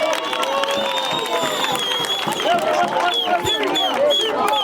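A crowd at a township tavern event in Newtown C, Inanda cheers and applauds in a dense, continuous roar, with scattered whoops and whistles rising above the noise throughout.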